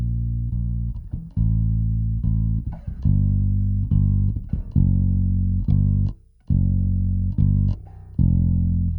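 Bass guitar from an Ableton multitrack of a song, playing deep, loud sustained notes with clear plucked attacks, a steady line and a short gap near the middle.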